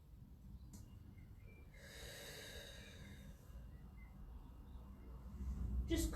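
Slow, deep breathing during a Pilates session, a faint drawn-out inhale and exhale through the nose in a quiet room, ending in a louder, closer breath.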